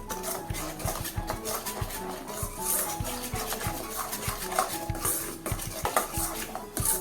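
A spoon stirs spicy masala kadhi in a metal pot after chili powder goes in, giving repeated close scraping and clinking strokes in an uneven rhythm with no voices.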